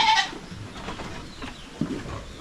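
Goats on a farm where many have just given birth bleat in short calls amid a noisy outdoor background, one sharper cry near the start and softer bleats after.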